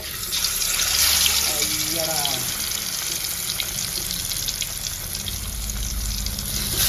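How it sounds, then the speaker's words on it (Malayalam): Red snapper fish sizzling in hot oil, a steady close crackle and hiss that holds throughout, with a voice speaking over it. "ഞാൻ നാലെണ്ണം വറുക്കാൻ പോവാ"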